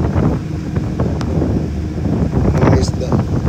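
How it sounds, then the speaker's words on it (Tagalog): Strong wind out at sea buffets the microphone in loud low rumbling gusts, with water and a boat faintly beneath and a voice talking over it. "Ang lakas nga ng hangin dito."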